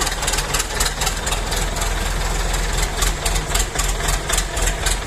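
A small mini tractor engine, started cold, idles roughly and steadily up close, with a loud low rumble and a fast, uneven knocking pulse throughout.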